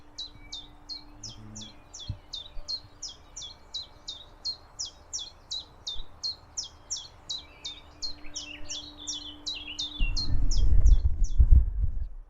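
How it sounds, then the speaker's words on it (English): A small bird repeats a rapid, bright chirping phrase over and over, fairly close, before a burst of low rumbling noise near the end. "You stand still, you can hear the birds."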